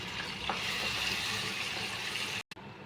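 Masala with cumin frying in hot oil in a pan gives a steady, fairly quiet sizzling hiss, close, with a brief dropout near the end.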